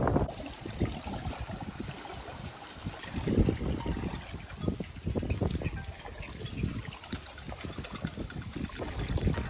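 Water flowing through an irrigation channel feeding crop fields in Sindh, a steady low gurgling rush with uneven swells, fairly close and continuous, with no talking.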